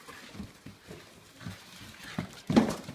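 A dog playing with cardboard boxes makes several soft, scattered whimpers and snuffling sounds, ending in a louder burst, close and quiet.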